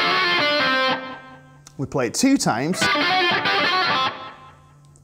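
Distorted electric guitar lick, fast chicken-picked notes, rings out loud at the start and again later, with someone speaking briefly between the two passages.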